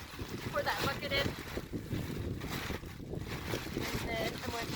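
Water poured from a bucket into a bag of leaves outdoors in December, a steady rushing, splashing wash that runs close and fairly loud through the whole stretch without a break.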